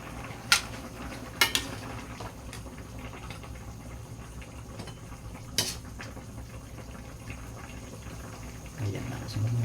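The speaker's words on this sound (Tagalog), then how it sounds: "Kulong-kulo na talaga siya" Ginisa sa kamatis, a tomato sauté, bubbles at a rolling boil in a pot, with a quiet continuous simmer, a few sharp metallic clinks of utensil on pot, and louder bubbling toward the end.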